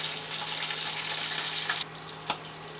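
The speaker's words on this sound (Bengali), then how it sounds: "আমি ক্যাপসিকামটা একটু ভেজে নিচ্ছি।" Capsicum frying in a pan for an egg chilli dish, a steady soft sizzle running throughout at moderate level, with a couple of brief clinks or stirs near the end and no talking.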